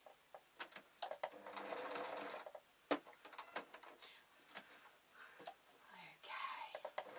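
A sewing machine stitches doll fabric in short, quiet bursts of rapid mechanical clatter separated by pauses and clicks, heard up close with faint whispery talk in between.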